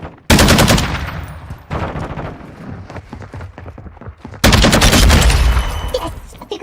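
Bursts of automatic gunfire in Call of Duty Modern Warfare II, loud and close, with a sustained rattling volley at the start, more scattered shots through the middle and another heavy burst near the end.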